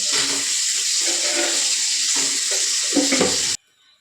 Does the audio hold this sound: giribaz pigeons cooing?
no